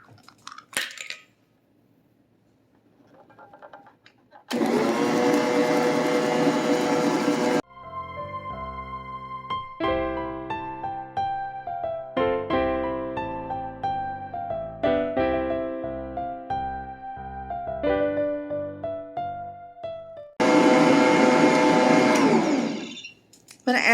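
An electric mixer whirs loudly through cake batter for German chocolate cake in two long bursts at the start and end, with clinking and knocking kitchen sounds and bright tonal tones between them.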